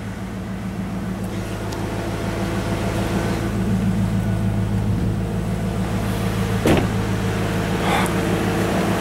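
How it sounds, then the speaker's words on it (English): Cooling fans on a 2007 GMC Denali spin up under a steady idling engine, a continuous whooshing hum with engine drone beneath and a brief thump midway. "Very first time I've ever heard the fans kick on this things."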